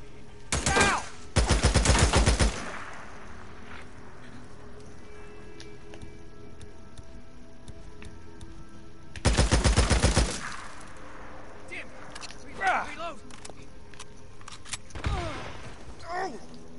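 Bursts of rapid automatic gunfire in the video game Days Gone, two loud close volleys separated by quieter stretches, with a voice speaking briefly in between.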